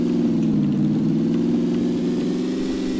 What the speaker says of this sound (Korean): 우리 팀 차 소리인가 이거?